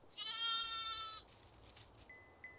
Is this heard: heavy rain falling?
no